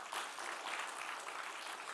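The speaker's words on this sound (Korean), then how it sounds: "박수 쳐줘요." Congregation applauding at a church revival service, a steady wash of clapping from many hands that stays fairly even and sustained throughout, with no voices over it.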